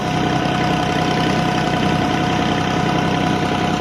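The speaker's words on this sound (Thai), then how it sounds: "เรือจะเข้ามาแล้ว" A boat engine idles steadily at a deep-water pier in Khlong Yai, a continuous mid-low drone with a faint knock, loud and constant throughout with no talk.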